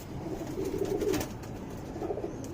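A gold-shade male pigeon of a breeding and tournament flying breed coos close by in two soft, low bursts, the first longer, then a shorter call after a pause, with faint background noise.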